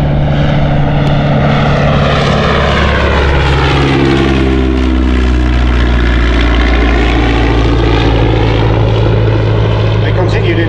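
Royal Aircraft Factory SE5a, a First World War biplane with a geared 200 horsepower engine, flies at an air show; its loud, steady propeller drone rises and falls in pitch as it passes, continuous throughout with a commentator talking over it.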